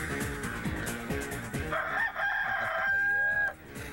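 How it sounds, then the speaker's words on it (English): A rooster crows once in a long, drawn-out call that rises and then holds steady. It sounds close and loud, following a few seconds of other busy noise. "These teams up before the rooster crowed."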